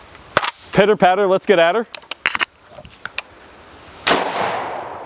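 Sharp gunshots at an outdoor shooting range, several scattered cracks with a louder report near the end, mixed with a man's sing-song talk.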